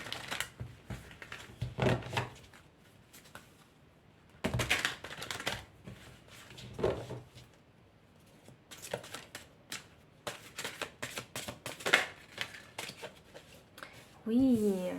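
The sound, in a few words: shuffling and drawing tarot cards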